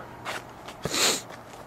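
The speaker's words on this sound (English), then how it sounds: "Sorry about the sniffling." A person in a garden sniffles a few times, with short close nasal sniffs and one stronger sharp intake, separated by quiet gaps.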